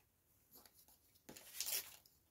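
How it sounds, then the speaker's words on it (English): A strip of craft paper is torn by hand during papercraft tag-making, giving a quiet scratchy rip that swells to a louder tear over about a second, close by with no talking. "Oops, tearing paper."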